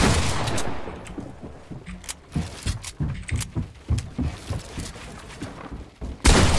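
Gunfire in the video game Fortnite, a string of sharp shots in irregular bursts with short gaps, moderately loud, ending in a louder blast.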